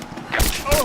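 Gunfire in the video game Rise of the Tomb Raider: a couple of short, loud bursts of shots, with a voice shouting over the noise.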